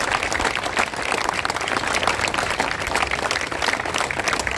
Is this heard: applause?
yes